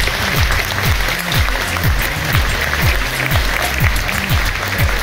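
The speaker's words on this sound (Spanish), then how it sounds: "Un fuerte aplauso, por favor." Audience at a choral concert in Tijuana claps loudly and steadily, a dense, continuous wash of applause with low rhythmic pulses running underneath.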